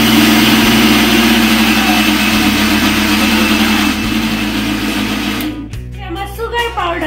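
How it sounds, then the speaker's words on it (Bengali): An electric grinder grinds sugar into powder for a quick homemade cake, giving a loud, steady motor whine. The whine winds down near the end as the blade slows and stops, then gives way to quieter handling sounds. "ঠিক ততটা পরিমাণে চিনি আমি আগে গ্রাইন্ডারে গ্রাইন্ড করে নেবো"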